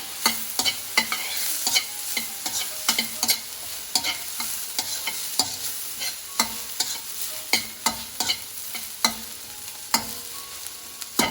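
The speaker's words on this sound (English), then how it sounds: "I'm also adding in chopped ginger and green chili." Chopped ginger and green chili frying for aloo gobi, with steady crackling sizzle broken by regular sharp scrapes and clicks of a spoon stirring against the pan, close and fairly loud with no talking.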